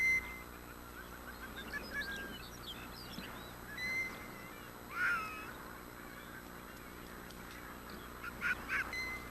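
Geese in an Arctic colony calling, with scattered honks and quacking bursts at a distance over a steady low background, louder peaks near the start and around the middle and end.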